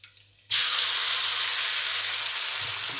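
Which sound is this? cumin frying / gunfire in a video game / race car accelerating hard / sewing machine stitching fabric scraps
cumin frying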